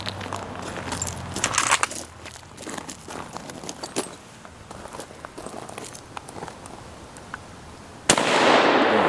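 Rifle shots from a WWII-era service rifle fired outdoors at cans, sharp loud reports standing out against light background noise, with one especially strong blast near the end.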